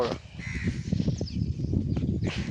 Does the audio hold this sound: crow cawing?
yes